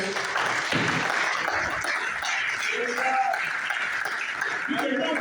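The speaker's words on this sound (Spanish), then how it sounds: "Un aplauso al Señor" A church congregation applauding, a dense continuous wash of clapping filling the room with a voice audible underneath.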